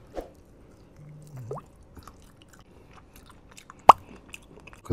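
Cold smoked mackerel being chewed by a person at close range, soft wet squishy mouth sounds and faint smacks, quiet with a few sharper moist clicks, no talk.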